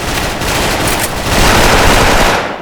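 Sustained automatic fire from an M4A1 rifle in the online shooter Special Force, loud and continuous for the whole stretch, with dense overlapping shots and no talk.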